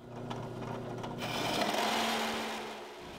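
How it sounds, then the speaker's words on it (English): A plug cutter bit drills into a piece of maple, giving a steady, loud whirring grind that rises after a quieter motor hum and holds for a few seconds. "To make the wooden plugs, we'll use the plug cutting bit."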